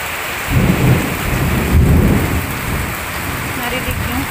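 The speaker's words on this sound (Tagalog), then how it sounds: "Pero grabe talaga ang kulog." Low rumbling thunder rolls in twice over a steady wash of falling rain, loud and close.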